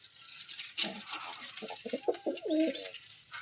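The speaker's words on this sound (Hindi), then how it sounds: "ये भी फैंसी कबूतर है" Fancy pigeons coo in a soft, repeated series of low throaty calls, close by, with faint rustling and background noise.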